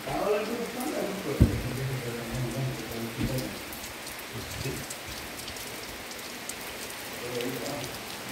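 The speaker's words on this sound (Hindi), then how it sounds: "बारिश हो रही है" Rain falls steadily outside a house in a soft, continuous patter with a few louder drops, while voices murmur faintly underneath at moderate distance.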